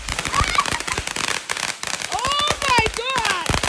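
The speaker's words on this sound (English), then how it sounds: "It's like firecrackers!" New Year's Eve fireworks burst in a rapid, loud crackling barrage of sharp pops close by, with excited voices and whistling shrieks rising over the explosions.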